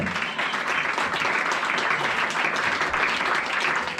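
A church congregation applauds loudly and steadily, a dense wash of many hands clapping together without a break from start to finish.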